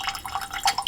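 Water trickling and dripping into a glass of high-strength bourbon-cask whisky, a brief run of small close splashes and drips with no talking.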